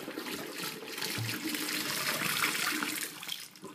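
Water drains from a glass flask into a bathroom sink, making a steady, fairly loud rushing and splashing for most of the stretch, then thinning out near the end, with no voices.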